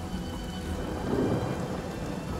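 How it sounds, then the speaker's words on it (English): Thunder rumbles low and heavy over steady rain in the Divinity video game, a rolling swell in the middle of a continuous storm wash with no talking. "Well, it's raining, you'll be fine."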